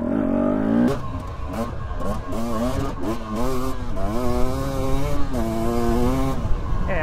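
Husqvarna TE motorcycle engine revving repeatedly from idle, loud and close, with rising and falling throttle blips in quick succession and no hesitation between pulls.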